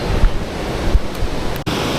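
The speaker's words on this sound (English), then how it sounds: "And there's a waterfall down here. You can probably hear it." A steady, loud roar of rushing water from a waterfall in Letchworth State Park, New York, fills the air as broadband noise with light wind buffeting the microphone and no voices.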